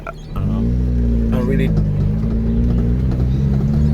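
A 1974 Honda Civic runs with a loud, steady low engine drone as it heads off around the block, the tone holding even throughout, with a brief rattle early on.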